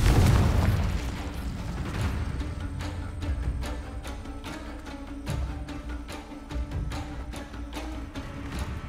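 A Confringo blasting spell goes off in Hogwarts Legacy, one booming explosion at the start followed by repeated sharp crackling impacts and pops under steady game ambience.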